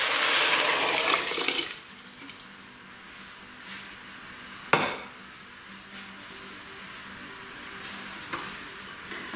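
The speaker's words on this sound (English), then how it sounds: "I'm just going to put in a litre of vegetable stock" A litre of vegetable stock is poured into a pot for celeriac soup, starting as a bright rushing splash that fades into a softer trickle, with a couple of sharp knocks of the pot or container.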